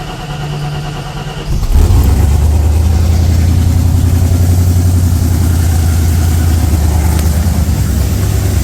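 A Ford 302 V8 fitted with a Holley Sniper cranks briefly, catches with a jump in loudness, then settles into a steady, loud, rumbling idle for several seconds, with no talk.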